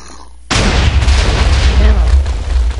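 A TNT cannon built from two layers of TNT detonates in Minecraft: a sudden loud boom bursts in after a short quiet moment, then a dense, roaring rumble carries on to the end.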